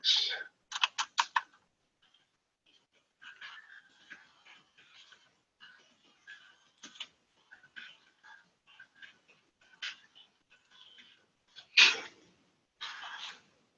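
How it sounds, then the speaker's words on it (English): Typing on a computer keyboard: quick bursts of sharp key clicks, a clustered flurry at the start, then scattered lighter taps with pauses and a few louder strikes near the end, close by and alone. "So I do just type it all in"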